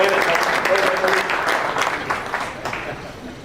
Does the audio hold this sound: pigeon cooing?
no